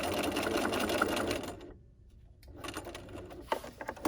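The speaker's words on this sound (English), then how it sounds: "Now I'm going to lift and pivot and sew down my X." Stitching a dog leash, a sewing machine hums close and steady, stops briefly for a lift and pivot, then sews on with light handling clicks.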